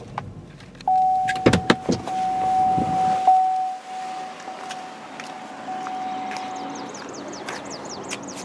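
A 2013 Chevy Malibu 1LT trunk releases with a few sharp mechanical clicks and a motorized whir under a steady electronic tone, followed by quieter rattling and faint chirps.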